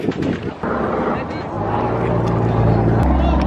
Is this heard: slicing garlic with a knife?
no